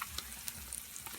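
Eggs fry over hard in a pan at home, a soft, steady sizzle with small crackles and pops throughout, quiet and close, with no talking.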